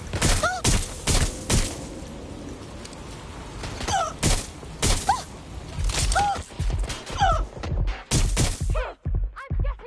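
Bursts of automatic gunfire and heavy impact thuds in Watch Dogs Legion, loud and close, firing in repeated volleys, with brief chirping electronic effects between shots.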